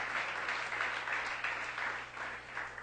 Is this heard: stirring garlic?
no